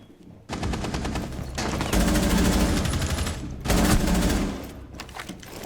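Rapid automatic gunfire in Rainbow Six Siege comes as loud sustained bursts, a long stream of rattling shots broken by short pauses and a final burst that fades into quieter scattered sound.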